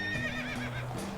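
A horse whinnies in a single rising and falling call with strong harmonics, about a second long and close by, heard during a riding scene in a Spanish-language drama series.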